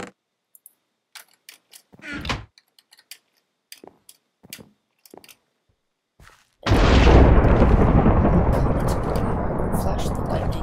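Minecraft thunder from a lightning strike during a Hunger Games match, a loud sudden boom that rolls into a long sustained rumble after a stretch of sparse clicks and ticks, with a player talking.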